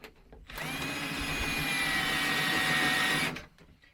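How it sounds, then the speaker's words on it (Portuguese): A power drill runs continuously for about three seconds as its bit bores into metal to make holes for screws, a steady high whining whir with a sharp start and stop, close and loud, with no talking. "Vamos ver se eu consigo furar o metal para colocar esses parafusos aqui."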